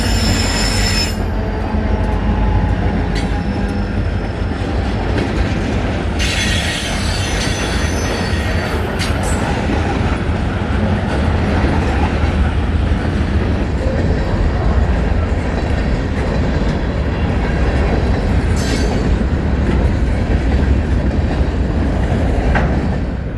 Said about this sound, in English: an eastbound CSX train catches me by surprise